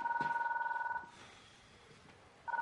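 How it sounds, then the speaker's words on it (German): An old-style telephone bell ringing indoors, a loud trilling ring that stops, pauses for over a second, then starts again. "Kann vielleicht mal jemand zum Telefon gehen?"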